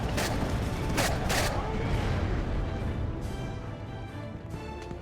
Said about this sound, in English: Love the sound of the guns.